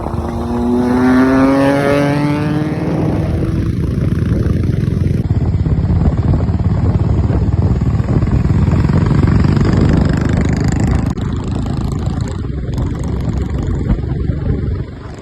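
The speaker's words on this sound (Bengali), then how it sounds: "জাস্ট বাইকগুলোর প্রতি কটা বাইকের জাস্ট সাউন্ডটা তোমরা শুনে নাও" Motorcycles on a night ride in Kolkata, a Triumph Street Triple 675, a Himalayan and a Bullet 350, open with rising revs, then a loud continuous engine roar holds throughout.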